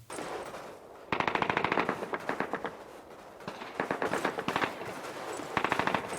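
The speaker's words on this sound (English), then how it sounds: "The gunfire off in the back, yet the silence of the immediate area around you." Call of Duty machine gun fire crackles in rapid bursts, several sustained volleys separated by short quieter gaps, loud and sharp against a muted battlefield background.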